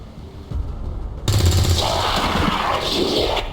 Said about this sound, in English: Let's go ahead and fire a weapon at this guy.